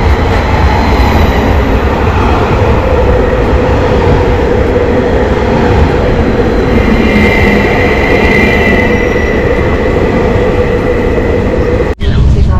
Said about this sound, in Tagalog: Tapos ayun na yung train.